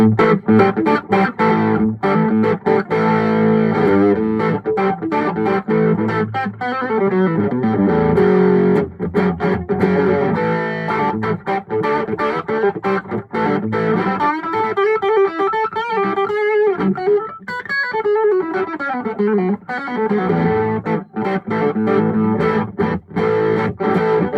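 Maton Mastersound electric guitar played through a Fender Deluxe Reverb amp on the vibrato channel with vibrato off and controls at five, giving a continuous run of chords and single-note lines for over twenty seconds, loud and close, with no talking.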